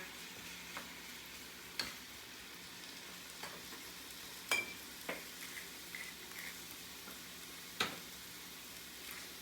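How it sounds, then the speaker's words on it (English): Beef sears in a hot pan with oil, giving a steady soft sizzle broken by a few sharp ticks and clicks of a utensil, close but fairly quiet. "We've got our beef searing in here"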